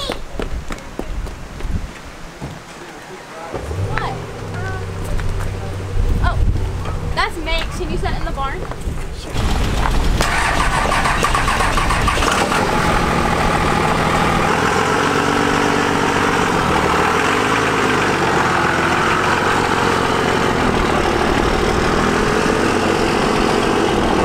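A truck engine turns over and settles into a loud, steady low rumble for the latter half, with earlier quieter mechanical noise and voices talking before it starts.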